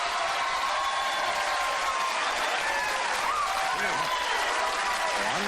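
A television studio audience applauds steadily and loudly throughout, a dense continuous wash of clapping, while someone talks over it.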